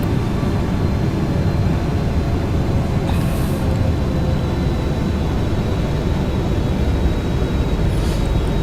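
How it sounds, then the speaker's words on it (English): A PMDG 777-300ER airliner on landing approach in the Prepar3D flight simulator gives a steady, unbroken engine and airflow drone, even and moderately loud throughout with no voices. "Wish I could kick back and watch this whole approach, but we've got to land this plane."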